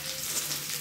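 Chilli chicken fries in a pan with a bright, continuous sizzle, close and steady, with a brief louder clatter of stirring right at the end.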